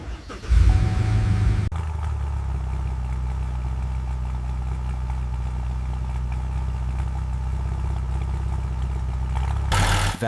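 A restored car's engine catches after a short cranking burst, then settles into a steady, loud, close idle with a low rhythmic exhaust pulse that runs unbroken to the end, with no talk.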